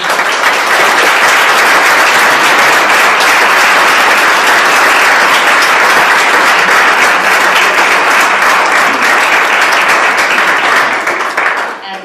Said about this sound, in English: So I'd really like to give them a big round of applause.